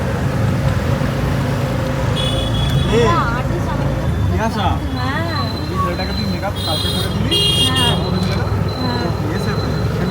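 Loud, constant engine and road rumble of an auto rickshaw moving through traffic, with horns sounding now and then and people talking over it.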